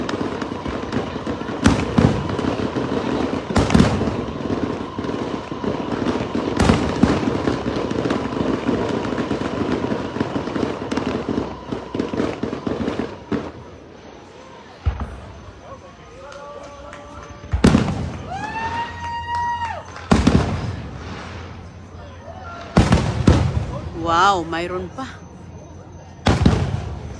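Large fireworks finale bursting overhead, loud booms and crackling in rapid succession, then a lull followed by whistling shells rising and more scattered blasts, with people exclaiming and talking throughout.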